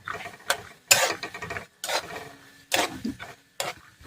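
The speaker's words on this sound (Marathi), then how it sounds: "शेंगदाणे म्हणजे थोडे भाजून घेऊ आपण दोन मिनटं" Peanuts roasting in a little oil in a pan over low heat, with gentle sizzling and repeated stirring scrapes in short bursts, close by and fairly quiet.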